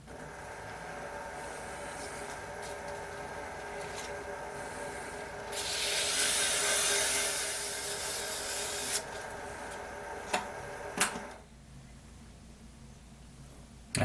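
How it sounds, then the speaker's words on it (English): Sandpaper roughing up a surface by hand before epoxy is applied on a large clock build. Close, steady rubbing rises into a brief louder scrubbing burst, then a few taps before it stops. "I'm just going to take some sandpaper and rough this area up here."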